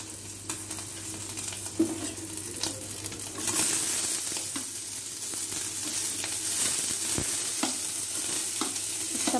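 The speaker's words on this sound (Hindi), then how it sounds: "मैं सब उसमें डाल के भून लूँगी।" Chopped onion, tomato, capsicum and carrot sizzle steadily in a hot pan, half-fried, with a loud continuous frying hiss and occasional spatula scrapes and taps, close by and alone.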